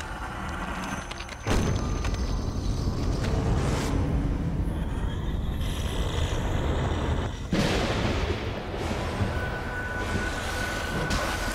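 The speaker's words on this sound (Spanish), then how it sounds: "Vienen los disparos." Loud bursts of gunfire in the video game The Evil Within erupt in heavy booming volleys, filling the scene with dense blasts and noisy rumble, with brief quieter gaps between.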